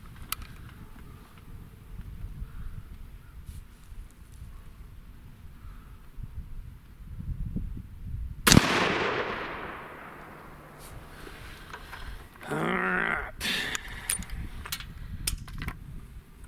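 A single loud, sharp rifle shot from a CVA Scout V2 takedown in 300 Blackout firing 110 grain rounds at a shooting range rings out mid-clip, followed by a decaying echo, then some nearby clatter.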